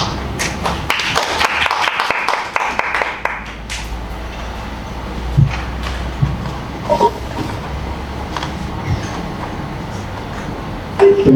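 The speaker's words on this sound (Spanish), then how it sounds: "Por favor, por los aplausos." Audience applause at a student academic conference session: a burst of scattered hand claps in the first few seconds that thins out into sparse, fading claps over a background rumble.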